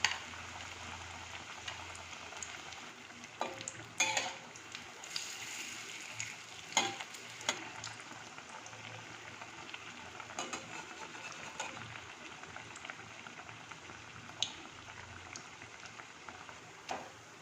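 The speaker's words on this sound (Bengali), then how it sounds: "এবার এগুলোকে, রুটিগুলোকে মাখিয়ে এই ভেজে নেব।" Coated rotis frying one at a time in a small wok, a soft continuous sizzle with occasional crackles and light utensil clinks, fairly quiet throughout.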